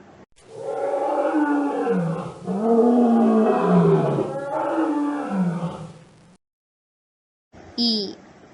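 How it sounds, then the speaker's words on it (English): A dinosaur roar, a long loud rumbling growl lasting several seconds with swelling pulses, followed after a pause by a brief spoken voice. "D. Dinosaur."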